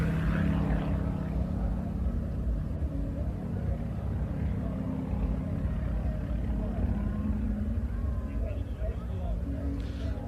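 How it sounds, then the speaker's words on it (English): Propeller aerobatic trainer aircraft of Romanian production flying a display at an air show, a steady droning engine rumble holding loud and continuous throughout, with a commentator talking over it. "John Windows is showing us that as a trainer, it can also be very exciting to fly these aircraft."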